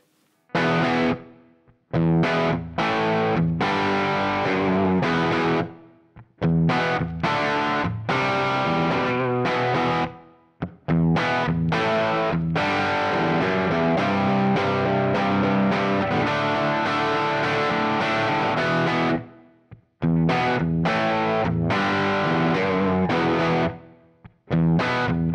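An electric guitar, a 93 Classic fitted with an Eternal GST humbucker pickup, plays heavily distorted chords and riffs, loud and up close. The playing is continuous apart from a few brief pauses between phrases.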